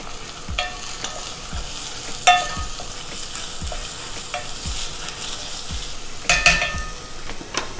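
Finely chopped red onions fry in olive oil with a continuous close sizzle, while a utensil stirs and scrapes the pan in regular strokes and knocks against it a few times.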